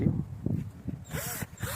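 A cordless drill fitted with a 7 mm bit: a few handling clunks, then short bursts of the motor whirring up and winding down, close and fairly loud, with no talking.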